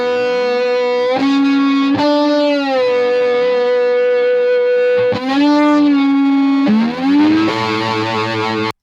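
Electric guitar run through a 10 ms delay in mono, producing a thickened, slightly doubled tone; several sustained, distorted notes and slides ring out loudly and alone.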